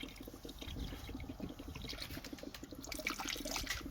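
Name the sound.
water bubbling in while filling the cooling system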